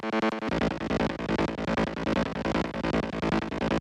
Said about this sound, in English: The second one plays this higher sound.